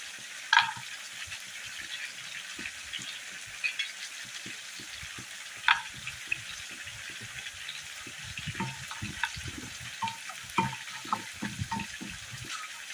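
Cashew nuts drop into a pan of browned onions for a Kerala recipe, then fry with a faint, steady sizzle broken by scattered light clicks and scrapes.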